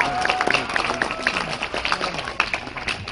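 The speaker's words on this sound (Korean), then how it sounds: "다시 한번 큰 박수 부탁드립니다." Audience applause at a movie-career talk event inside a cinema, a dense, steady stretch of many hands clapping that carries on throughout without a break.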